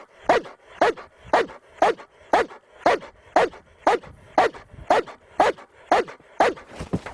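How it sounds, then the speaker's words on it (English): A trained police dog barking on command during a bite-work demonstration, with about fourteen sharp barks in a steady, controlled rhythm, close and loud with short gaps between them. "After he gives me a certain number of barks that are under rhythm and controlled"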